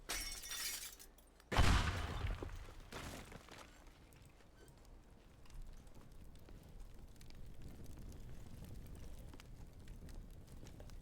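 A pipe bomb goes off in Teardown with one sudden sharp blast and shattering debris, followed by a low rumbling, crackling tail that fades into quieter background noise.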